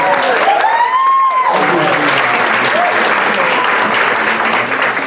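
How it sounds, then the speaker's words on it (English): Steady applause from a crowd at an awards ceremony fills the space, with a voice speaking briefly at the start. "Let's give him a round of applause."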